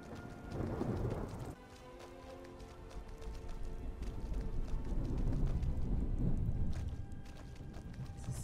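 Steady video game rain in Skyrim patters with a low rumbling roll underneath, a broad wash of sound that swells slightly toward the end, with no voices.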